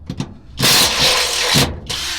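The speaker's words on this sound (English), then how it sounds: "I had to go switch my drill out, but I finally got it out." A Kobalt cordless drill bores holes in wood, starting with two short blips, then two sustained whining runs of the motor with a brief pause between, loud and close.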